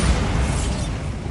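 A Bombarda blast spell detonating in Hogwarts Legacy, a dense, continuous rumbling boom that fills the whole short moment at steady loudness with no voices.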